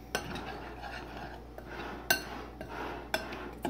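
Salt, sugar, yeast and flour are stirred together for pizza dough with a utensil in a metal or glass bowl: repeated scraping and sharp clinks of metal against the bowl at an irregular rhythm, close by, with no talking.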